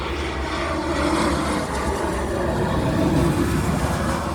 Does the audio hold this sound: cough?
no